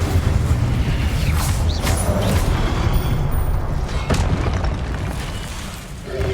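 Incendio fire spell blasts in Hogwarts Legacy, heavy rumbling booms and fiery bursts over a continuous loud roar, with sharp cracks near the two- and four-second marks.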